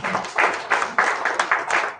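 A breakfast audience at a bank's internal audit event clapping for themselves: a short burst of brisk, regular clapping with distinct beats, close and fairly loud.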